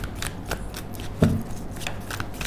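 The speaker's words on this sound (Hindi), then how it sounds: "जब तक मैं शफल कर रही हूँ" A deck of tarot cards being shuffled by hand: soft, close riffling and flicking with one sharper snap in the middle, quiet and alone without talk.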